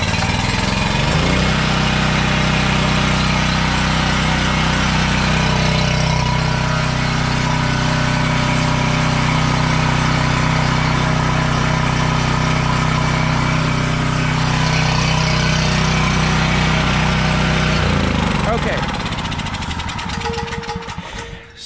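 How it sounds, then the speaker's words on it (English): A small gasoline generator engine runs steadily at a loud, even drone for about eighteen seconds, then cuts off and winds down, with no talk over it. "So what we determined there is that the generator does run. Actually runs pretty good."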